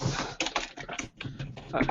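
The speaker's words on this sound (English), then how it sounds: "I hear typing. There's always typing." Rapid clicking of a computer keyboard during a tabletop role-playing session, the keystrokes coming in quick uneven bursts with a short pause partway through, and faint voices in the background.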